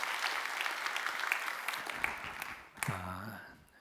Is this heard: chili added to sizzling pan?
no